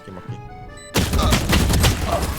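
Burst of rapid gunfire from a tactical shooter video game, kicking in abruptly midway after quieter game sounds and continuing loud and dense to the end.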